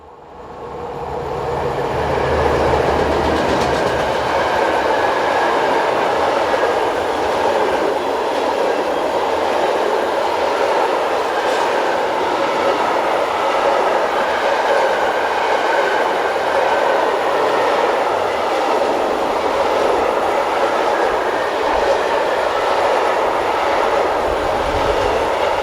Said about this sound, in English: as this Class 411 ICE approaches from the south